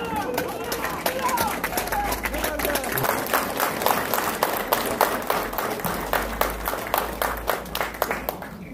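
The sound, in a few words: crowd applause at police passing-out parade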